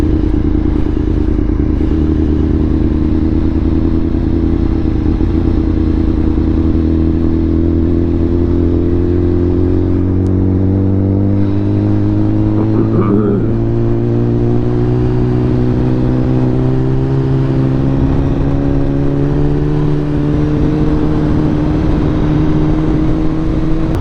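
A motorcycle riding at night behind a Camaro, its engine droning loudly and steadily close by, with rising harmonic whine as it accelerates and constant wind rumble throughout.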